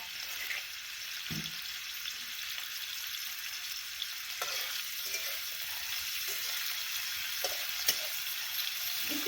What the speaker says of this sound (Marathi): एक कांदा टाकला कांदा परतायचा